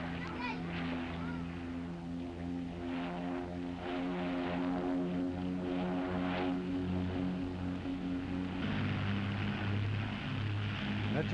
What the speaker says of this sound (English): That's your brother's plane?